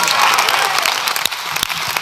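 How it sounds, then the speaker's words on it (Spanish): A parliament chamber breaks into standing applause for María Corina Machado, dense steady clapping from many hands that holds for about two seconds before cutting off abruptly. "les pido que aplaudamos en pie a María Corina Machado, heroína de la democracia"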